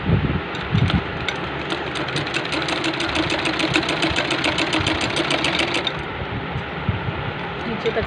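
A sewing machine stitches piping onto a fabric slit with a rapid, even mechanical chatter that runs through most of the clip and stops near the end, close by, with a voice talking over it.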